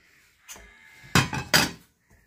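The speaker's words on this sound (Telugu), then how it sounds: "మూత పెట్టేసుకుందాం." A metal lid goes onto a pot of chicken pulao with a couple of clattering, clanking knocks, close and fairly loud, ringing briefly before quiet returns.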